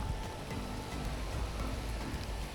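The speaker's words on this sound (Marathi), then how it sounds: "इथे पाऊस सुरू झाला आहे" Rain falls at the coast at Manori near Mumbai, a soft continuous patter and hiss, fairly faint and steady, with low rumbling background and no voices.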